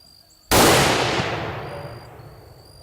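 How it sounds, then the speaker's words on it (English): A single loud rifle shot fired at a buck during a hunt, a sharp crack followed by a long rolling echo that fades over about two seconds. "I'm gonna shoot him."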